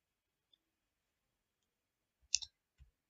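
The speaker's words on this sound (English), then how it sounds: "what I will do, I would type" A few sparse, soft keystrokes on a computer keyboard: a lone tap, then a quick cluster of clicks and a couple of later taps, faint against near silence.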